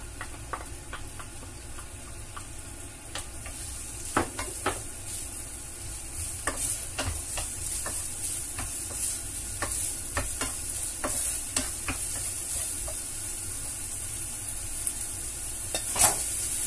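Onion sautés in a pan for igado, a steady soft sizzle with frequent sharp utensil taps and scrapes against the pan, fairly quiet and close.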